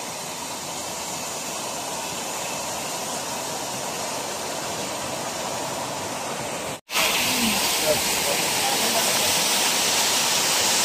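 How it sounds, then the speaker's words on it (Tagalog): Rushing water at Desert Falls roars as a dense, constant wash, loud and close, with one brief dropout midway before the steady torrent resumes. "Desert Falls and water."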